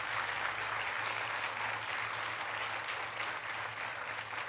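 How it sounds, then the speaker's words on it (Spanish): A church congregation applauds with steady, even clapping that fills the room from start to finish, with a low hum running beneath it. "Yo creo que eso merece un aplauso del Señor."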